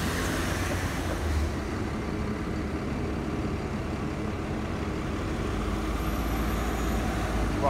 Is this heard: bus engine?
yes